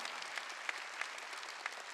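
A church congregation claps during a worship service, the steady patter of many hands forming a continuous wash with a few sharper claps standing out, no voices over it.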